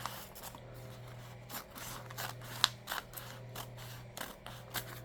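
Scissors cutting paper for a small junk journal: a few crisp snips and rustles, close but quiet, over a low steady electrical hum, with no voices.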